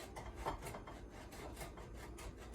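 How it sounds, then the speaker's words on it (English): Parmigiano Reggiano cheese is grated by hand for a savory galette, giving a quiet, steady rasping scrape repeated in quick strokes, close by with no talking. "And now for the Parmesan, I'm gonna grate about 1/4 cup."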